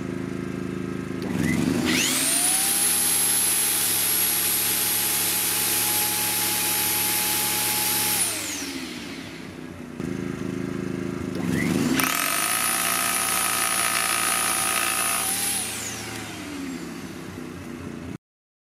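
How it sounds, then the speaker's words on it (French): An inverter generator runs two connected power tools rated 1600 and 1500 watts, about two metres away, in two long loud bursts: engine drone ramps up with a high whine, holds steady for several seconds, then winds down. "vous allez avoir le bruit à 2 mètres du générateur selon la puissance que je tire."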